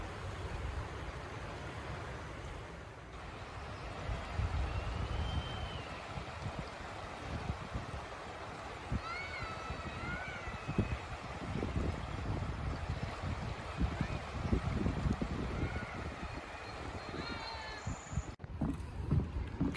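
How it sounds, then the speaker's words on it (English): A river flows steadily on a May afternoon in the Town of Plattsburgh, New York, a soft continuous rush with faint birdsong above it and a brief handling knock near the end. "Nice just to sit here and enjoy the sound of the river on a Sunday afternoon"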